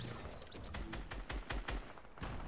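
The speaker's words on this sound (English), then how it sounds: "I was trying to shoot my teammate" Gunfire in a shooter video game comes as rapid, evenly spaced bursts, fairly loud and sustained across the moment, with no voices over it.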